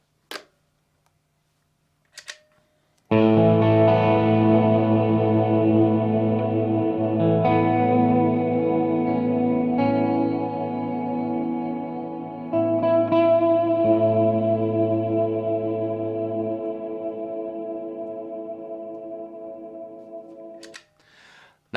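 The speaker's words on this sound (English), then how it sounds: "the reverb just got very dark" Electric guitar chords played through a Mooer Ocean Machine Devin Townsend delay and reverb pedal set to a dark, long-decaying reverb, loud sustained notes washing into a thick tail, with a few sparse clicks before and after.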